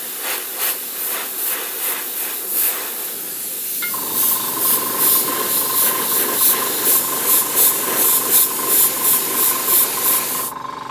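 Black spray paint misted in light coats through a stencil onto the stairs section of a landing pad set for Mantic Battlezones, over yellow. A soft, steady hiss with pulsing bursts and a faint high whine, close by.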